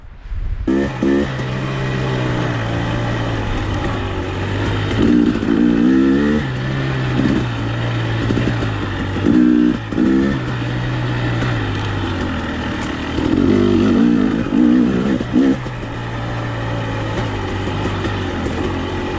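A 2021 300XC dirt bike engine drones steadily close by on a mountain trail, with a constant low hum broken by repeated rising revs and throttle blips throughout.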